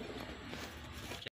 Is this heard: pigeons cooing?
yes